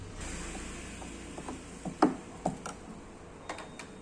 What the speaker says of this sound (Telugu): సో నేను స్క్రూస్ అనేవి బిగిస్తాను.